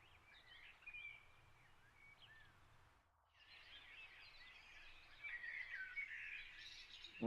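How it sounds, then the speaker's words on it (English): A dawn chorus of blackbirds and thrushes singing at first light, faint and distant. Overlapping phrases and chirps continue throughout and swell louder toward the end. "This is the third slice with the blackbirds coming in, thrushes coming in"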